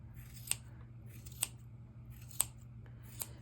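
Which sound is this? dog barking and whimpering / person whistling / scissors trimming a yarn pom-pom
scissors trimming a yarn pom-pom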